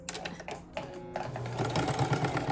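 A sewing machine back stitches on a homemade fabric face mask with a filter pocket, quiet whirring runs that stop and restart, then a steadier stretch of stitching rising toward the end.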